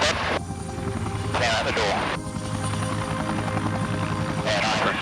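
A rescue helicopter hovers close overhead during a winch rescue, its loud rotor chop and engine whine steady throughout, with voices speaking over the din in short phrases.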